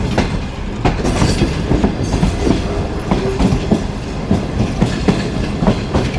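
The Shalimar Express passenger train running on the main line, heard from on board as a loud continuous rumble with rhythmic clickety-clack of wheels over rail joints.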